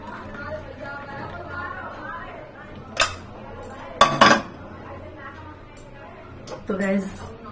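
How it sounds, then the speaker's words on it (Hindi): Kitchen utensils clinking while tea is strained at home: a few sharp metallic clinks and clatters, scattered and close, over a low background hum, with someone speaking between them. "मैं चाय छान लेती हूँ"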